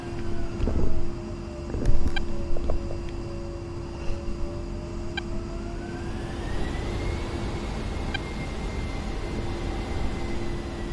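An A-10C jet in the DCS flight simulator taxis toward the runway, its engines giving a steady droning whine with a rising turbine tone and a few clunks and beeps, close and continuous with no talking.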